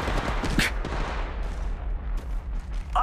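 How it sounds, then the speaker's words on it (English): Dense gunfire rattles in Apex Legends Mobile, with rapid bursts of shots and heavy impacts piling over one another at close range, loud and continuous from start to finish. "Shots fired and they're hitting me."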